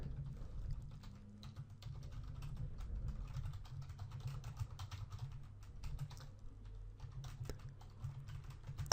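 Typing on a computer keyboard while writing jQuery code, a steady run of quick, close key clicks with no pauses, alone over a low background hum.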